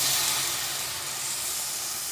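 Onion, tomato and green chili sautéing in a pan for a sole fish curry give a steady, close hiss and sizzle, loud and unbroken for a couple of seconds with no voices.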